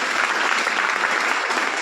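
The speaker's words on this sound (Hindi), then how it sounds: "एक बार जबरदस्त ताली।" A seminar audience bursts into loud, close applause that fills the whole short moment, with rapid overlapping claps at an even level.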